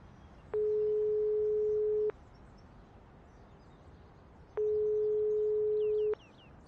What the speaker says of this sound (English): Nico wasn't answering her phone.